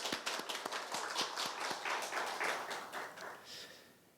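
A church congregation gives applause of thanks, a few sharp distinct claps at first that merge into softer, steady clapping, fairly faint and fading toward the end.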